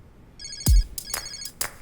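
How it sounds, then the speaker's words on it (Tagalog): A mobile phone rings with a bright electronic ringtone: short tonal chirps repeat in quick bursts, with one dull thump near the start and no talking. "Sir, nagre-ring yung phone niyo."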